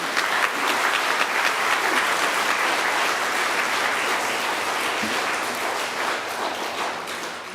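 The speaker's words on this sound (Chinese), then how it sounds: "咱用鼓掌来鼓励因" A church congregation at a Taiwanese-language Sunday service claps together in a dense, sustained burst of applause that stays loud and even before tapering slightly at the end.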